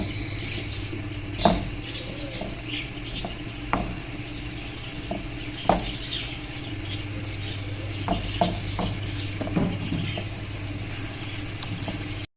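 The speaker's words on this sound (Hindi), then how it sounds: "अब हम इसको भून लेना, लाइट गोल्डन सा इसको हम करेंगे" Chopped onions frying in oil until light golden, a steady close sizzle with soft hiss throughout, broken by occasional faint clicks and scrapes of stirring.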